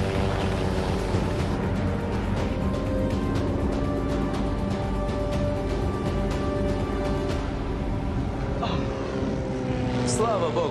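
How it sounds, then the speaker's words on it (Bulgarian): A failing engine rattling as if it is falling apart, a loud, steady, rough mechanical roar with dense vibration, constant and close. "Звучи така, сякаш целият мотор се разпада."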